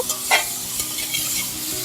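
Mango and cucumber cooking soft in a pan, stirred with a utensil: a steady sizzle and bubbling with a few scraping strokes against the pan, close and moderately loud, no talking.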